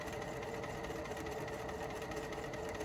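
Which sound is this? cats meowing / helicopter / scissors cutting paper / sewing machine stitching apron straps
sewing machine stitching apron straps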